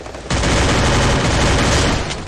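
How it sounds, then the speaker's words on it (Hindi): Dense, continuous gunfire from a Garena Free Fire Clash Squad match, a loud sustained fusillade of rapid shots running almost without pause. "चला गोलियां चला तू यहां पे"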